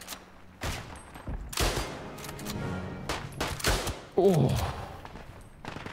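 Machine gun fire and other gunshots echo through an FPS video game, with irregular bursts and thuds at varying distances, and a brief voiced exclamation among them.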